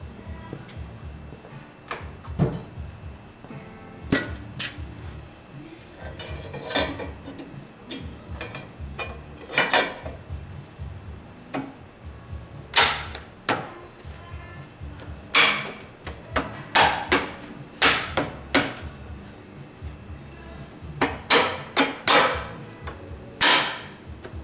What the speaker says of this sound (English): we're going to go ahead and put the faceplate on for the alignment tool